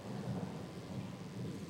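Low thunder rumbles steadily before rain, a soft, distant, continuous roll with no voices.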